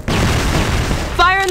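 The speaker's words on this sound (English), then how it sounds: "Flash bomb! Flash grenade!" A flash grenade going off in a video game, a loud booming burst filling most of the moment, followed by a ringing tonal effect at the end.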